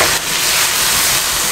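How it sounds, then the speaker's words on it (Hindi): Beef sizzles and hisses in hot oil over a high flame for white karahi, a loud, steady, dense crackle with no break and no voices. "हाई फ्लेम पे मैं इसकी भुनाई कर लूँ"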